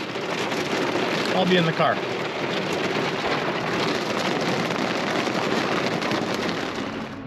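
Heavy rain pours steadily in a dense hiss during a severe storm with high winds, with a voice speaking briefly early on beneath the downpour.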